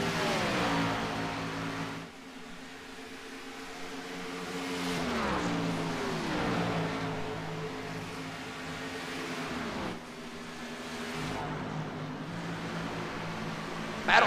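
Race car from a racing video game roaring down the backstretch at Atlanta Motor Speedway in 2008, a loud sustained engine drone with rising and falling pitch through gear shifts, continuous and close for the whole stretch, with no talk.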